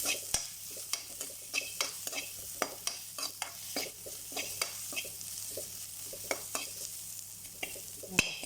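Onion, garlic and ginger frying in coconut oil, stirred with a steady series of light scraping and tapping strokes over a soft background sizzle, close and alone.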